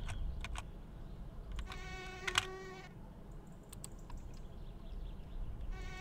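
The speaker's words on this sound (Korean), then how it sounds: "모기 소리 이거 그지 같네 이거" A mosquito in the game My Summer Car whines faintly with a thin, high-pitched buzz for about a second, set against a low background hum and scattered clicks.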